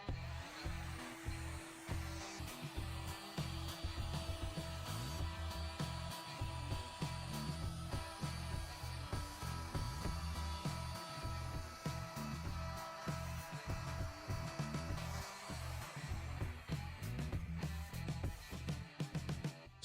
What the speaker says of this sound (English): When I turn on the milling cutter, there is still a micro vibration, and it is released much more smoothly.